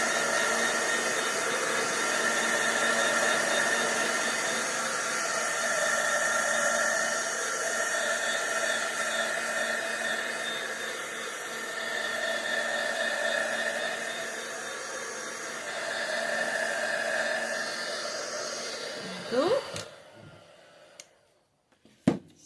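A hair dryer blows steadily on glued tissue paper on a craft board, a constant close whooshing roar that holds for about nineteen seconds, then cuts off abruptly, leaving a few faint handling knocks.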